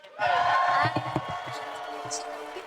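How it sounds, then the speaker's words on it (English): A crowd at a chess tournament gala cheers and shouts loudly for under a second, then settles into murmuring with scattered whoops. "This is the loudest crowd a chess tournament has had."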